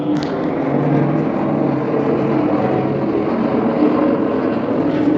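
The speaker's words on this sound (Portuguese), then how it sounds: "depois que esse avião passar" Airplane passing overhead, a loud, steady, broadband engine roar that holds at full strength throughout with no talk.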